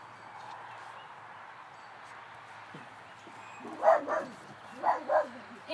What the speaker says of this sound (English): And the dogs are officially freaking out.